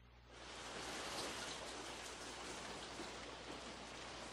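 Rain begins falling in an audio drama scene set around a rural local train line, a broad steady hiss that swells up within the first half second and then holds loud and even, with no voices.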